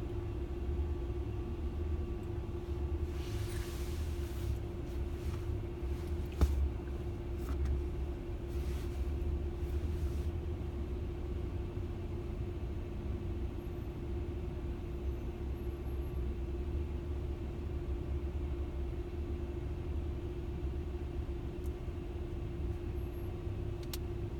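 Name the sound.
road traffic rumbling past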